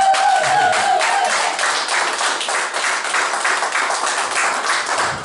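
A crowd at a family year-end party claps and cheers in dense, continuous applause as a guest is introduced. The sound is loud and close throughout.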